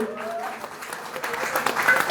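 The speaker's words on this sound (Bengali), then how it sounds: "একটু করতালি দিয়ে অভিনন্দিত করুন।" An audience at a ceremony applauds in a short, soft patter of scattered clapping that builds slightly toward the end, somewhat distant, with murmuring voices underneath.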